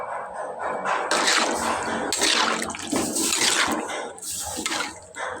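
Warm water is poured into a hot pan of roasted lemons, producing a loud, close splashing gush with hissing bursts that swell and fade over several seconds.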